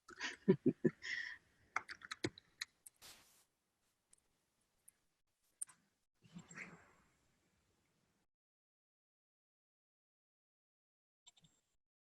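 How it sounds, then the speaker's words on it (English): Bursts of keyboard typing, quick clusters of clicks, then scattered isolated taps fading into near silence; a faint voice may murmur briefly. "And you may be typing."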